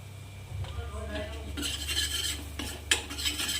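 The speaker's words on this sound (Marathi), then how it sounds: "त्याच कढईमध्ये मी तेल टाकलेलं आहे चम्मचभर आणि आता शेंगदाण्याचा कूट टाकायचा आहे भाजलेला आणि परतून घ्यायचा आहे" Roasted peanut powder being stirred in a spoonful of oil in a kadhai for bhindi thecha, with close scraping and clinking of a spoon against the pan and a low hum underneath.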